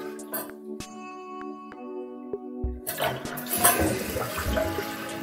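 A toilet fitted with a new flapper flushes: a quiet stretch with faint tones gives way, about three seconds in, to a loud, close rushing surge of water that keeps churning to the end.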